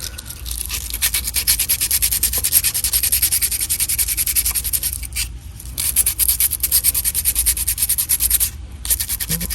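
Steady, abrasive sanding on a plastic action figure torso, rapid back-and-forth rubbing strokes that are loud and close, with a short pause midway before the strokes resume.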